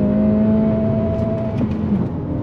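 A 2023 Acura Integra sport compact car accelerating on throttle, its engine note a steady droning tone that rises in pitch before a brief shift-like dip, close and loud with no talk.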